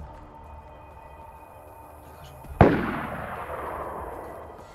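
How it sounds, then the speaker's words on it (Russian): A single sharp gunshot from a weapon in the video game DayZ, fired during a clan base raid, cracks loudly out of quiet ambience and trails off into a long, fading rumble. "Делаю выстрел."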